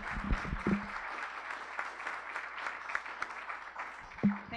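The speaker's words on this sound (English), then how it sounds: "I want to give a round of applause to" An audience gives a round of applause to a speaker on ecology, archaeology and Indigenous knowledge and to her students, steady, moderately distant clapping from many hands in a lecture hall, with a few short louder sounds over it.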